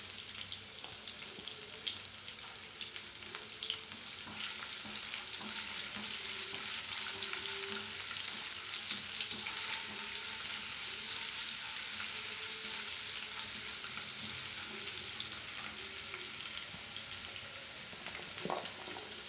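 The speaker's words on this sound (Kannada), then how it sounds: "ಶುಂಠಿ ಬೆಳ್ಳುಳ್ಳಿ ಕಟ್ ಮಾಡ್ಕೊಂಡಿರೋದು ಹಾಕ್ತಾ ಇದ್ದೀನಿ." Finely chopped ginger and garlic fry in hot oil in a pan for a potato and spinach masala, giving a steady, hissing sizzle throughout with a few faint clinks, close and unbroken, with no voices.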